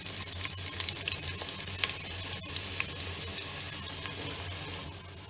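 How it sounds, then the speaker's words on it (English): Onions fry in oil in a cooking vessel with cloves and a cinnamon stick, a soft continuous sizzle with occasional stirring clicks and scrapes, fairly quiet and without voices. "We'll fry the onions to light brown color."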